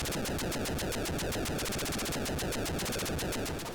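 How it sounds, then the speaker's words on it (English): Fast rhythmic gunfire rattles continuously alongside a helicopter's chopping drone in an Atari 2600 game, harsh and buzzy, steady for a few seconds with no talk. "It actually sounds like a helicopter."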